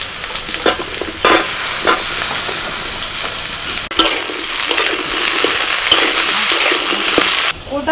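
Pointed gourd and eggplant sizzle loudly in hot oil in a wok, with a continuous hiss broken by repeated scraping stirs and occasional clinks of a spatula.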